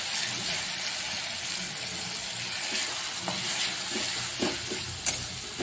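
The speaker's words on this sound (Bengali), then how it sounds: "যতক্ষণ না টমেটোটা গলছে ততক্ষণ একটু ভেজে নিতে হবে।" Chopped tomatoes fry in a pan with a steady, even sizzle and hiss throughout, with occasional soft clicks of stirring and a slightly louder scrape near the end.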